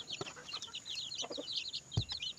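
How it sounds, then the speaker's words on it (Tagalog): Native chickens and black Australorp chicks on a farm, a busy chorus of high, rapid peeping from the chicks with a few low clucks from the hens, close and fairly faint. "may ano din tayo black astrolop yan po sisiw na black astrolop so mayroon tayo mga native chicken dito ayan po oh"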